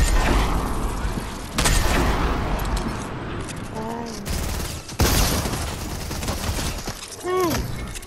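Rapid bursts of gunfire in the Fortnite video game, loud and repeated in several volleys, with people talking over and between the shots.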